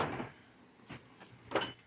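Drawers on a Harbor Freight US General Series 3 72-inch tool box sliding and clunking, a few brief soft knocks and rattles of metal drawers, quiet and close with no talking.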